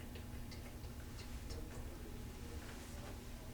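A clock ticks faintly and regularly indoors, a soft, steady tick-tock under a low background hum.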